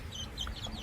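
Chickens clucking on a farm, a short burst of faint, fairly distant soft clucks and chirpy calls over a low background hum.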